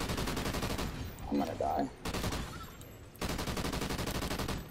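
Rapid automatic gunfire from an M27 IAR light machine gun in the Call of Duty: Ghosts Extinction mode, firing in sustained loud bursts with a short pause, while a player speaks briefly mid-burst.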